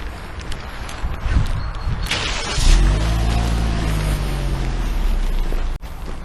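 A started car, reversing close by, gives a low engine rumble that swells and then settles into a steady hum under gusty, noisy surroundings.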